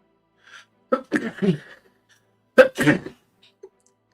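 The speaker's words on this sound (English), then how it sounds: "Oh, I'm sneezing." A person in a game scene sneezes twice, each a short sharp burst with a brief gap between, followed by a faint small noise; the sneezes are fairly close and clear in a quiet setting.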